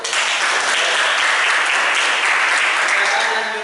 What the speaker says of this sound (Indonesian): kasih tepuk tangan Bayu.